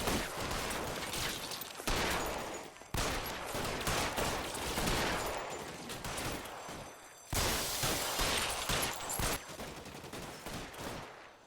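Bursts of rapid gunfire in a video game, dense volleys broken by short gaps, loud and sustained, with sharp cracks and some shattering impacts.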